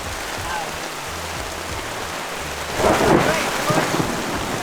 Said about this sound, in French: La tempête aussi, le champ de bel orage qu'on a pogné là.